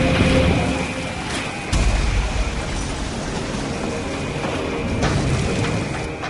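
A second blast strikes a warship at sea, a heavy low boom cutting in over a continuous rumbling roar, with a faint muffled voice beneath, loud and close.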